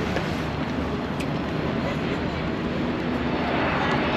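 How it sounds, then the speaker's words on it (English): A steady broad roar of an airplane passing overhead, constant and fairly loud throughout with a faint voice underneath, at the FIFA World Cup fan village. "Airplanes arriving."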